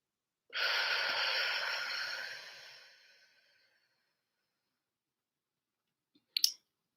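A deep breath during a guided relaxation: a single long airy exhale that starts strong and trails off over about three seconds, close and quiet, followed by silence and a tiny click near the end.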